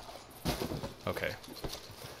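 Hooves of a Palomino Dapple American Standardbred horse in Red Dead Redemption 2 clop in a few soft, uneven beats, muffled and close, while someone talks over them.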